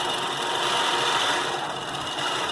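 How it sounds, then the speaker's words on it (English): A Baby Lock Gallant sewing machine stitches continuously with a steady, fast mechanical whir and hum that stays even and close throughout, with no pauses or speech. "And I love the way it sews."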